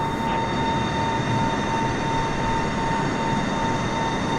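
A Boeing 747 in Microsoft Flight Simulator 2020 drones with a steady, loud jet engine roar and a faint constant whine, unbroken throughout and without speech.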